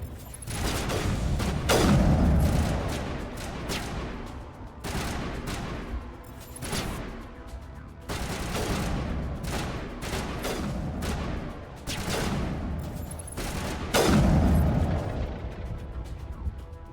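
Enemy gunfire in Mass Effect 1 rattles in repeated bursts of weapon fire and booming impacts, loud and chaotic, coming in waves separated by short lulls over a rumbling background.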